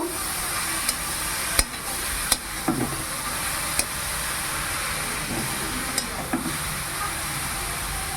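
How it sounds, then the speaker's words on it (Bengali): Cardamom being stirred into grated carrot halwa frying in ghee: a steady soft sizzle and hiss runs throughout, broken by a few sharp scraping clicks of the spoon against the pan. "এলাচ দিয়ে দিলাম ভালো করে মিশিয়ে নেব"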